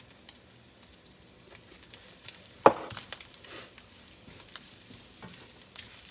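Ham drippings sizzle in a frying pan with a soft, low hiss, broken by sharp pops like popcorn, one loud crack near the middle and smaller spits scattered after it.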